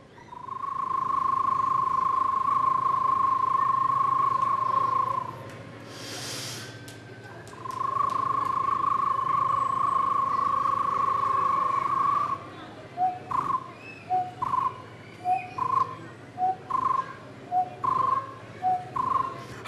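A person imitates a bird call by combining a rolled trill with a whistle, first as two long sustained whistled tones, then as a rapid series of short chirping bursts, loud and close.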